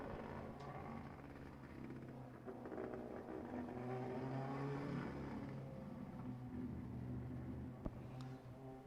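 A race car on a speedway lap drones and whirs faintly at a distance, its engine note rising and falling steadily throughout.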